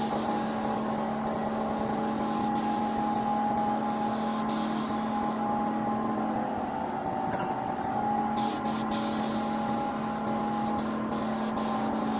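Spray paint hisses steadily and loudly from a can or gun while a BMW E36 car is being painted, a close, continuous hiss that keeps up for the whole stretch with no talking.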